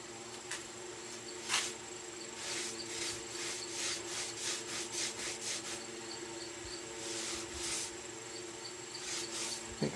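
Burrs being cleaned off a knurled metal part turned on a shaper, heard as soft, close rubbing and rasping strokes, some sharper scrapes, repeating irregularly over a steady background hum.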